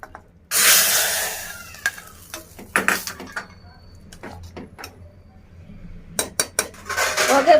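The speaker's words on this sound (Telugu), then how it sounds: "ఇప్పుడు ఈ పోపు ఇందులో పోసేసి కలుపుకొని" A spoon stirs and scrapes in a pot as tempering is mixed into bottle gourd and chana dal curry, giving sharp, irregular metallic clinks and clatters with a few quiet gaps between bursts.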